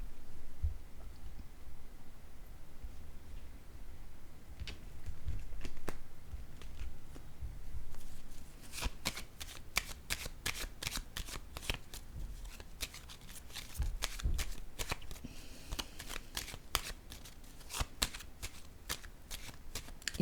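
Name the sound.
tarot cards being shuffled and laid down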